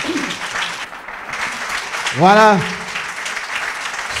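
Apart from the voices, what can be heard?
audience applause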